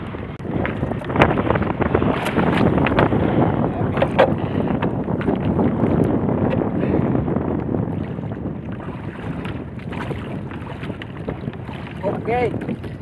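Strong wind roars steadily across the microphone, with water sloshing against a small fishing boat throughout.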